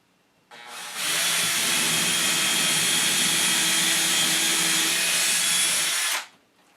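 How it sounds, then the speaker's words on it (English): A power drill whirs up and runs at a steady high-pitched whine for about five seconds, close by, before winding down, drilling holes to hang acoustic bass traps. "So I'm just going to drill my holes here."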